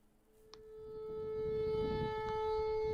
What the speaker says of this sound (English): It's likely just a malfunctioning tornado siren,